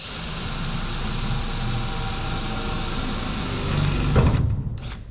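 A power drill whines steadily as it bores through a rib in a stealth van's metal roof, loud and close, then the bit breaks through and the motor winds down.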